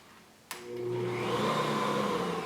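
An Ankarsrum stand mixer, its roller set against the side of the bowl with liquids added first, starts on low speed with a sharp click. A steady motor whir then hums alone and swells slightly as it runs.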